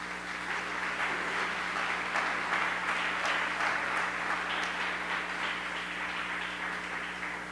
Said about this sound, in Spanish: vamos a recibir a Sami con un aplauso